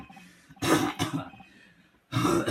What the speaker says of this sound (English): I don't know if that was real coughing or fake coughing